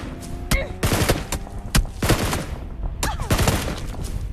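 Gunfire in the mobile battle royale game PUBG Mobile, a rapid series of loud sharp shots in bursts with short gaps, with brief talk from players mixed in.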